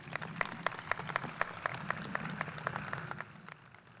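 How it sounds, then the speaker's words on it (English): Audience applause at the 2022 Foster High School graduation ceremony, steady clapping from a crowd in a large venue with some sharper individual claps, tapering off toward the end. "Everyone, please give them a round of applause."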